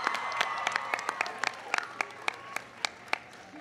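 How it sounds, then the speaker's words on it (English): Audience applause for astronaut Mae Jemison, the first African-American woman in space, at an astronomy night event hosted by the president: steady dense clapping with sharp individual claps standing out, sustained throughout. "Give her a big round of applause."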